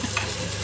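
Mung beans are stirred in a cooking pot, a brief scrape of the spoon over a steady sizzle of frying, close and moderately loud.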